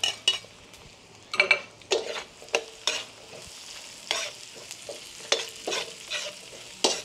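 Garlic and onion being sautéed in margarine for a Batangas-style beef kaldereta: a soft sizzle broken by repeated sharp clinks and scrapes of a utensil against the pan, with no voices.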